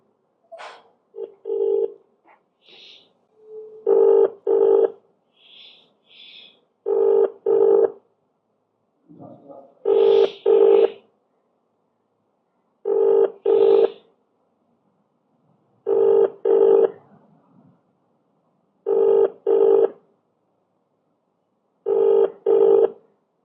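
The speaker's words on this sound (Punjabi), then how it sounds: "ਅਵਤਾਰ ਸਿੰਘ ਨੇ ਫੋਨ ਨਹੀਂ ਚੁੱਕਿਆ ਇੱਕ ਵਾਰ ਫੇਰ ਟਰਾਈ ਕਰਦੇ ਹਾਂ" An unanswered phone call: a few short dialing tones at the start, then a ringback that repeats as paired bursts about every three seconds, loud and clear with silence between rings.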